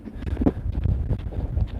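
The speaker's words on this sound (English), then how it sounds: "windy today. It's not extremely strong, but it's stronger than normal." Wind gusts outdoors on a moderately windy day, a continuous low buffeting rumble on the microphone that swells and dips throughout.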